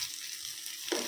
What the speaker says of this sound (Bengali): এখানে ভাত ভাজা বসিয়ে দিয়েছি, সব রেডি হয়ে গেছে